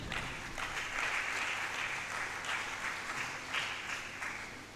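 Sustained audience applause at a science and technology fair, a dense steady wash of clapping from a large crowd that swells slightly in waves and fades a little at the end, with no talking over it.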